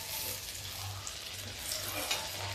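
Dhuska, a rice and lentil batter, fries in oil with ghee poured over, making a continuous close bubbling sizzle with soft hissing that stays steady throughout.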